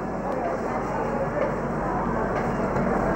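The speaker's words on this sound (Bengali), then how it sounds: "বলতে বলতে ছেড়েও দিয়েছে আমাদের ট্রেন।" The VGLJ Superfast Express 22198 pulls out of Jasidih Junction in Jharkhand with a steady, loud, continuous rumble of rolling wheels and carriages that holds evenly from start to end, with no voices.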